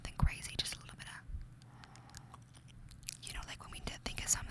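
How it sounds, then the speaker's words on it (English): Soft, close nibbling on a mascara spoolie brush in an ASMR session, with faint crisp bites and mouth clicks at the start and end, quiet whispering in between. "we're also gonna do a little bit of spoolie nibbling"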